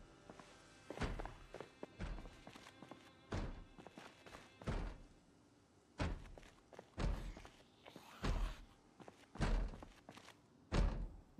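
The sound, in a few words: zombie banging on a door in the video game Project Zomboid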